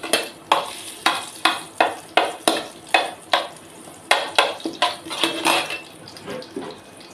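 Crushed garlic sizzles in a hot pan as a spoon stirs it, sharp scraping strokes repeating roughly every half second over a steady frying hiss, close up with no talk.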